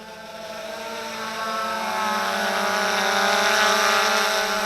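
An XK Detect X380 drone descends to land near Mount Shasta, its whirring rotors giving a steady tonal whine with harmonics that grows gradually louder and closer, no talking.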